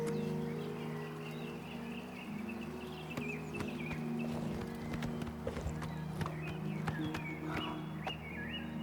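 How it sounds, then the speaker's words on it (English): Horse hooves clip-clopping in the video game Oblivion Remastered, a moderately near, steady series of hoof strikes over a low ambient hum, with a faint bird call and occasional quiet speech. "I think this might be the horse he was referring to."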